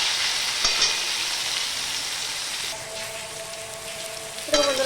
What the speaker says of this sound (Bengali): আমার সবজিগুলো আমি হালকা করে ভেজে নিয়েছি খুব সুন্দরভাবে